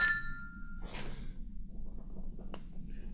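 A phone notification rings out as a short chime with ringing tones, then a brighter clink, and a second faint ding follows about a second and a half later against a low room hum.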